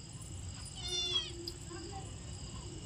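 A very small stray kitten meows once, a short thin cry near the middle, faint against background hum, with a softer sound following.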